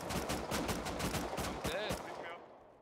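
Rapid automatic gunfire in the survival game Rust crackles in a fast, even burst of shots, fairly loud and close, trailing off near the end as a voice briefly cuts in.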